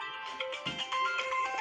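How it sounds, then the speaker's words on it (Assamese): A mobile phone rings indoors with a steady, melodic electronic ringtone. The tune is moderately loud and plays with no talk over it. "কোনোবা ফোন মাৰিলা"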